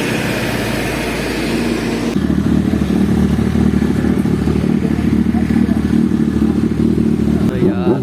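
Kawasaki 6R motorcycle engine running loudly and steadily in a lineup of bikes, a continuous rumbling drone that shifts and thickens after a couple of seconds, with voices faintly in the background.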